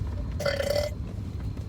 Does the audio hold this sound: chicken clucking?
no